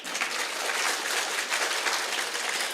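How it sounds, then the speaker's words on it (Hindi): Audience applause at an Arya Samaj annual celebration in Kirti Nagar, a soft, even wash of many hands clapping heard at a distance without voices. "जोरदार तालियां बजाओ"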